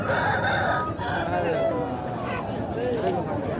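Chickens cluck and call continuously at a weekly Sunday chicken market in Piler, with voices talking throughout and a steady crowd murmur underneath.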